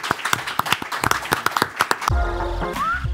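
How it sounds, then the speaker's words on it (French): An audience applauds Maître Alain Buté, a notary in Orléans, with a run of distinct, fairly close claps for about two seconds before the sound cuts to a short musical sting. "Applaudissements pour Maître Buté."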